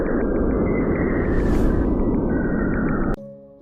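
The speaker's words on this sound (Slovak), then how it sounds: "Sonda Cassini nahrala rádiové vlny z jeho prstencov." Radio waves from Saturn's rings recorded by the Cassini probe, turned into sound: a dense, loud, droning hiss with steady tonal lines, a whooshing swell in the middle, then an abrupt cut to a fading tone.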